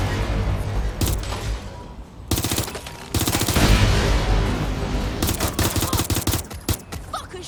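Rapid automatic gunfire and bursts of shots in the video game Watch Dogs: Legion, loud and dense, coming in several sustained volleys with brief gaps, with faint voices underneath.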